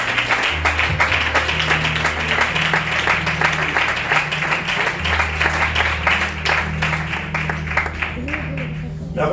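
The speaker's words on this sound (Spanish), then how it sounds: "Fuerte el aplauso" Loud congregation applause during a church service, sustained clapping over a low held organ or keyboard chord, thinning out toward the close.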